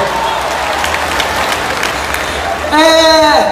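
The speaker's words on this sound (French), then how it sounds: "Applaudissez pour mon nom" An audience at a comedy show in Abidjan claps and cheers steadily at close range, then a voice cuts in loudly over the applause near the end.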